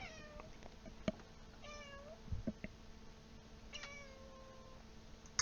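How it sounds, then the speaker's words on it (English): A cat meows repeatedly indoors, several short, fairly faint calls spaced irregularly over a low background hum, with no talking. "Is that a cat we're hearing?"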